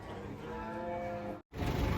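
A cow moos at the Penambarawa livestock market, one long, close, droning call that breaks off abruptly, then the noise of the market comes back.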